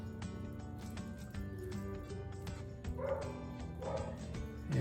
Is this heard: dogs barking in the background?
yes